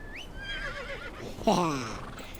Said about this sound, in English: Oh wait, I can call the horse.